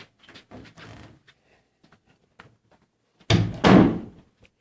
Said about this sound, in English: I'm going to lock this door up and I'll show you the front.